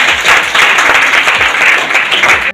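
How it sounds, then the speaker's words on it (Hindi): Loud, dense applause from a seminar audience, steady clapping throughout, cutting off sharply at the end. "बहुत बढ़िया, जोरदार ताली से रखें।"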